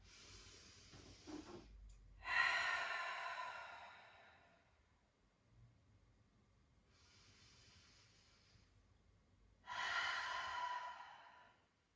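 Deep yogic breathing during an Apana breath practice: two long, slow exhales or sighs, separated by quieter inhales and pauses, heard close and alone in a hushed room.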